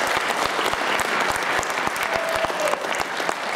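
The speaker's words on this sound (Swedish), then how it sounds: "Ge grabbarna en applåd." Audience applause after a Muay Thai bout, dense steady clapping from a crowd that continues throughout at a fairly loud, even level.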